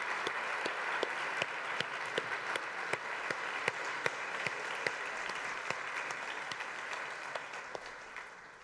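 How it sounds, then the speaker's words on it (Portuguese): Sustained audience applause at a Brazilian TV studio show, many hands clapping steadily and fairly close throughout, with sharp individual claps standing out over the dense patter and no talking. "uma salva de palmas para todas essas heroínas."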